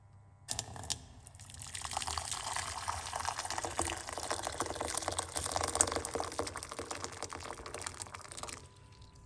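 Hot water pours steadily for several seconds in a continuous splashing stream, starting abruptly and stopping near the end, close by with no talking.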